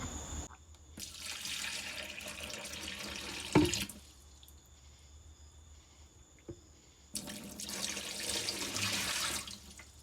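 Running water gushes into a van sink in two bursts, separated by a quieter pause with a couple of clunks, close and steady.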